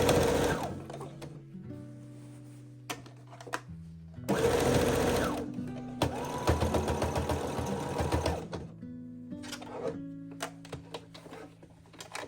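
Sewing machine stitching a bias strip over lace for a nightgown, running in several bursts of rapid mechanical whirring separated by short pauses, loud and close with no talk.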